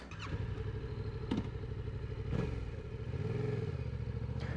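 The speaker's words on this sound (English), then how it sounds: "The engine right there. Glorious CP2 motor." A 2019 Yamaha MT-07 with its CP2 twin engine running, a steady close throb with a few brief revs and clatters, heard alone without talk.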